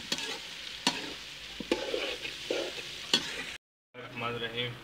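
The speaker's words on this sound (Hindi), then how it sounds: "मिक्स करके भिंडिया को भून लेना मसाले के अंदर" Okra (bhindi) stir-frying in masala gives a close, steady sizzle broken by sharp scraping stirs of a spoon, with a short silent gap before the frying resumes.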